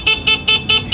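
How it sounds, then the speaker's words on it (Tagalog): A G-Star horn fitted to a Motorstar Easyride 150N 150cc touring scooter honks five times in quick, even, loud beeps, sounded up close. "tignan yung busina"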